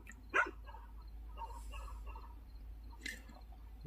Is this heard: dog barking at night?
yes